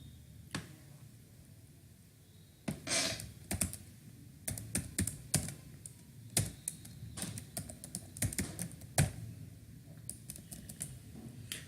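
Java code being typed on a computer keyboard, a steady run of close, crisp key clicks in irregular bursts with a few louder taps, alone with no talking.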